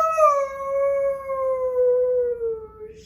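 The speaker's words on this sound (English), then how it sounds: "far from behind him he heard Lucy's anguished howl" A drawn-out, wavering howl in an audiobook scene, voicing a girl's anguished cry; it rises, holds and slowly falls over about three seconds, alone and fairly loud.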